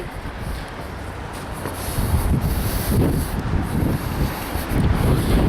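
Gusty wind buffets the microphone in strong, rising surges, with a faint watery background and no voices.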